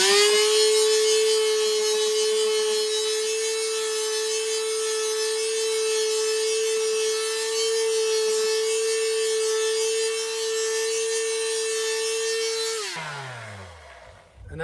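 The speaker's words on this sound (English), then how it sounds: "I'm going to use a palm sander." A palm sander runs continuously with a steady high-pitched whine and buzzing rasp, then winds down and stops near the end.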